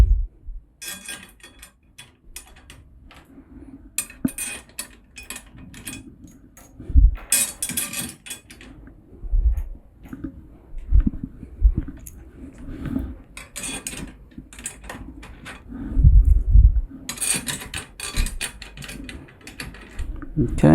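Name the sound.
fitting a 2.3 triple flange hoop on a Yamaha drum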